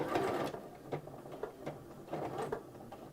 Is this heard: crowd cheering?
no